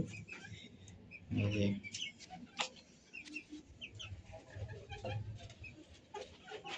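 Chickens cluck and squawk faintly and sporadically nearby at night, mixed with scattered rustling in a quiet setting.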